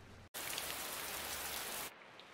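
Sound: heavy rain

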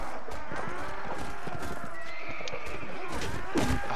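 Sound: horse neighing and hooves in Mount & Blade Warband video game

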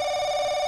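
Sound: telephone ringing in video game Paranoiac

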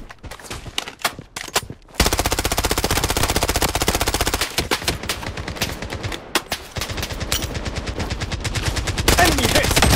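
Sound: gunfire in the video game Blood Strike

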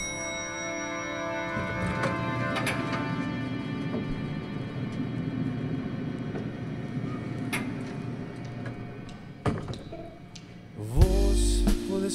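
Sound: a song

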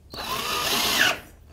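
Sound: power drill drilling holes

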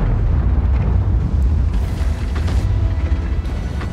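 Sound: explosions in the video game World of Tanks

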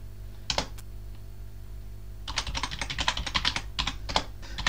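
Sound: typing a Linux terminal command on a computer keyboard

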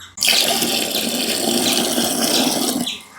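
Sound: pouring water from a one-litre cup into a container

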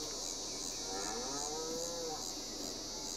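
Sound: cows mooing in the video game Farming Simulator 22

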